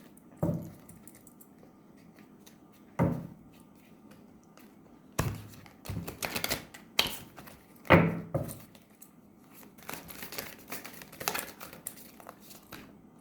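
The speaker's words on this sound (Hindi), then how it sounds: "एक सेकंड, मैं इसको ना थोड़ा शफल कर लूँ।" Tarot cards shuffled by hand, a few soft crisp riffles and taps spaced apart, then a busier flurry of papery flicks, close and fairly quiet with no talk.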